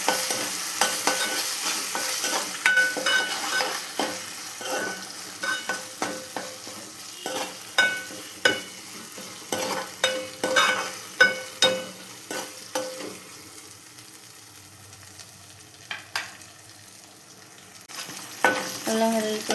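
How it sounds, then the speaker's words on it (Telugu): Ginger garlic paste fries in oil with onions, a low sizzle under repeated rhythmic scraping and clacking of a spatula stirring the pan, with a brief quieter pause before the stirring resumes. "ఇదంతా మంచిగా అల్లం వెల్లుల్లి పేస్ట్ కూడా ఆయిల్లో మంచిగా ఫ్రై అవ్వాలి."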